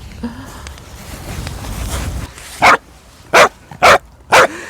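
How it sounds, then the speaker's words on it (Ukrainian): A dog barks outdoors by the frozen Dnipro river as someone steps onto the ice: four loud, close, evenly spaced barks ring out after a stretch of rustling and wind noise. "Я стала на лід, Растя вже гавкає."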